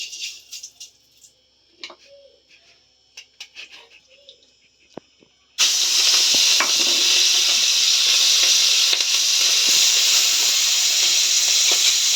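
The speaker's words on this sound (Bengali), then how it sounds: "বেশি ভাজবো না, চিংড়ি মাছ শক্ত হয়ে যায় ভাজি।" Prawns fry in a pan with a little salt. Quiet kitchen clatter and light rustling come first, then a loud, steady sizzle and hiss takes over for the rest of the clip, close and unbroken.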